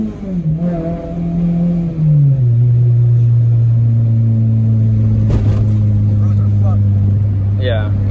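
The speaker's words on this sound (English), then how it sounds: "Whenever you do two-step, you have to floor it. You get a little first gear, floor it." A tuned car engine on a two-step launch limiter, floored in first gear, drones loud and close with a steady low rumble after a falling rev, with a short sharp burst midway and talk over it.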